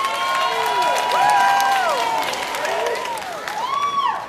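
Comedy club crowd roaring with cheers, whoops and scattered applause, dense and loud throughout with high excited shouts rising above the clapping.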